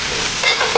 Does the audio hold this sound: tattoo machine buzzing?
no